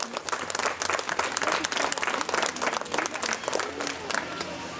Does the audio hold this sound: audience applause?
yes